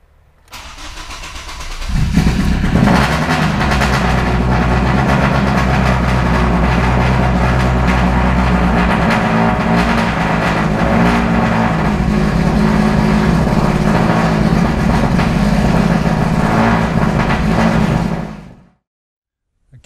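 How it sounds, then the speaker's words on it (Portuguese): A Ford Focus with a Duratec 2.0 engine cranks and fires, then settles into a loud, steady, close running drone for about fifteen seconds before cutting off abruptly, no talking. "Aqui pessoal, vamos fazer uma partida no carro"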